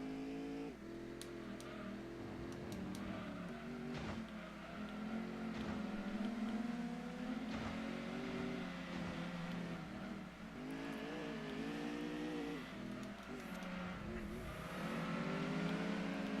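Race car engines in Gran Turismo 2 drone continuously, rising and falling in pitch as the cars accelerate and shift through a three-lap race, with steady layered whine and no talk.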